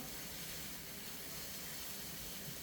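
Eggs with bologna pieces are scrambled in a hot pan, giving a faint, steady hissing sizzle that runs unbroken with no other sounds.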